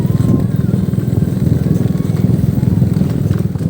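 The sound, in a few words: motorcycle riding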